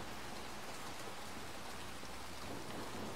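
Steady heavy rain pours in the game Little Nightmares 2, a dense constant hiss of drops with faint rumbles of thunder, no voices.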